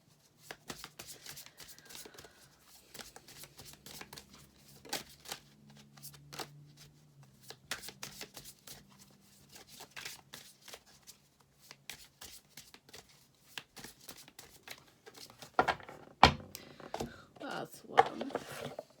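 Quick riffling and snapping of a deck of cards being shuffled repeatedly, close up and fairly quiet, with a few louder riffles near the end.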